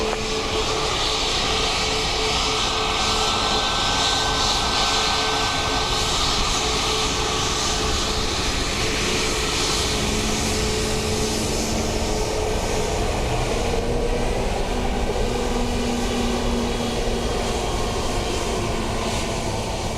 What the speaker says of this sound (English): Aer Lingus A330 from Chicago